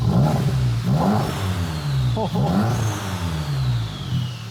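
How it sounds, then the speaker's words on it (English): A turbocharged four-cylinder Volkswagen Golf R engine with a bigger turbo and aftermarket exhaust revs up and settles repeatedly, a deep throaty exhaust rising and falling in pitch, loud and close. "It's got a deep rumble at idle."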